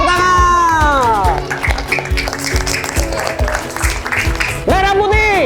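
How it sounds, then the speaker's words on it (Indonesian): An audience at a school event claps together in a steady rhythmic beat, loud and close, while excited voices call out at the start and again at the end. "Tepuk tangan."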